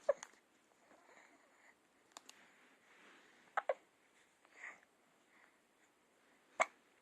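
A child hiccups indoors, with several short, sharp hiccups spaced irregularly, close and fairly soft in a quiet room, with faint breathing and small vocal sounds between them.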